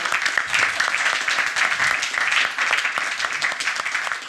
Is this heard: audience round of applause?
yes